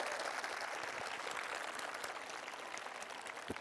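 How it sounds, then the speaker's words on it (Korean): Audience applause at an outdoor talk concert during a citizens' budget festival in Seongnam, a dense, sustained patter of many hands clapping at moderate distance, steady throughout. "여러분 박수 한번 쳐주셔야 됩니다"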